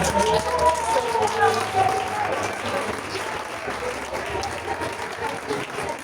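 A congregation at a church service bursts into applause and acclamation, sustained clapping and cheering mixed with voices talking and calling out.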